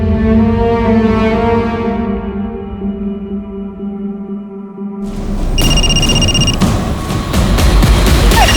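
A telephone rings repeatedly in a crime drama scene, its bright bell-like tone coming in after a low droning music bed and sounding fairly loud and close.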